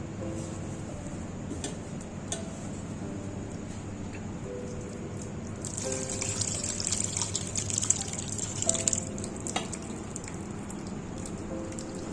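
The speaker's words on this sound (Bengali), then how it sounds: "তো এইভাবে করে রুমালটা থেকে আমি ছানার যে এক্সট্রা জলটা সেটা আমি বের করে নেব।" Excess whey trickling out of fresh chhana squeezed in a white cotton cloth over a strainer and bowl, soft irregular drips at first, then a brighter splashing stream midway; no one speaks.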